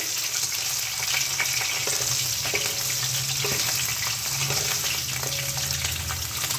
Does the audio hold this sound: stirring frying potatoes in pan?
yes